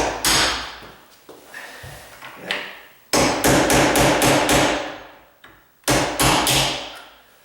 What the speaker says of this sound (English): I'm just gonna start it with my nail set.